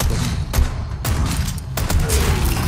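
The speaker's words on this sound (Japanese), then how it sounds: "はい、爆発" Explosions and blasts in the video game Resident Evil 4: three sharp, loud booming bursts spaced about half a second apart over a continuous rumbling background.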